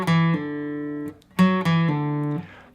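Guitar playing a short picked phrase of quavers ending in a pull-off to an open string, repeated twice, clear and close with sustained ringing notes.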